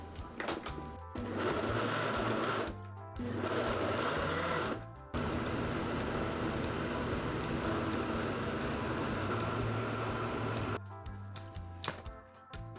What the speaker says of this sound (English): So I'm gonna start blending.